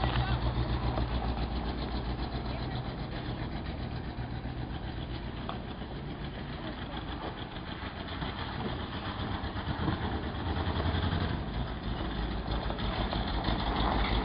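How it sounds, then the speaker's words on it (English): The engine of a 1979 Lil Red Express truck idles roughly and unevenly for a long stretch, chugging steadily like an old tractor, with some background noise. "Not sure how many cylinders are firing, but it does sound like an old tractor."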